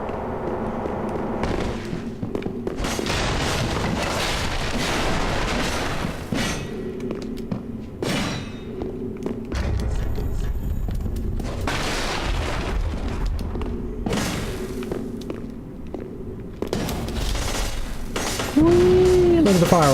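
Booming explosions and shattering blasts in Dark Souls 3, like fireworks during a boss fight against Midir, with repeated loud thuds and crashes in bursts over about twenty seconds.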